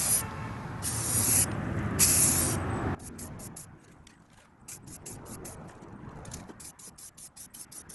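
A spray gun hisses out a color coat of white paint onto a Wheel Horse tractor wheel in loud bursts, then gives way to quieter rapid clicks and short spurts of spray.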